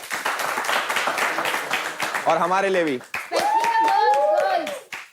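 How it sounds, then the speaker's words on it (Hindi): A reality-show group claps for themselves in quick, sharp, close-up bursts, mixed with excited voices, a short spoken line and laughter that rise over the clapping midway. "एक बार अपने लिए ताली बजा दो"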